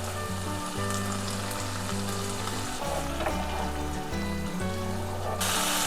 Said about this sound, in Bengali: এবারে এই পেস্টটা আমি পুরোটা এর মধ্যে ঢেলে দেব।